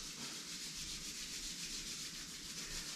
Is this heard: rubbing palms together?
yes